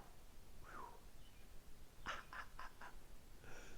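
A bird gives a duck-like quacking call outdoors during a yoga session, one faint squawk followed by a quick run of four or five short nasal quacks, then another brief call, all set against steady background hiss.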